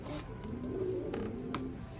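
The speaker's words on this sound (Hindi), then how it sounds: "ये माशाल्लाह जर्मन काले मुंह वाला कबूतर है।" A German black-faced breeder pigeon coos softly in a loft, low murmuring calls sitting faintly over a steady background hum with a couple of brief sharp knocks.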